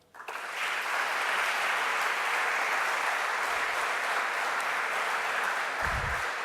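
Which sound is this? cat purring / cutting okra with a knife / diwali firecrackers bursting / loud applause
loud applause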